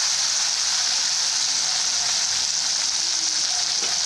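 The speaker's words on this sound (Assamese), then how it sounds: "মই প্ৰথমতে আলুবোৰ এয়া ফ্ৰাই কৰি ল'বলৈ লৈছোঁ।" Potatoes fry in hot oil in a wok, giving a continuous bright sizzle with faint crackles, steady and close, with no talking.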